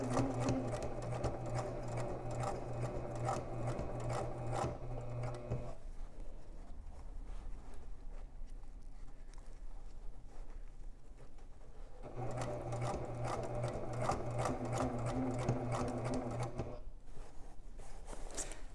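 A sewing machine stitches through layers of fabric for a Buckthorn project in two long, close runs of rapid rhythmic whirring, separated by a quieter pause of several seconds.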